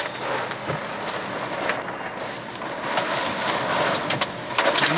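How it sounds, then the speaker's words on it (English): Heavy rain pours steadily during a thunderstorm in Drexel Hill, a constant loud wash with gusty surges and no talking. "here's the worst part of the storm"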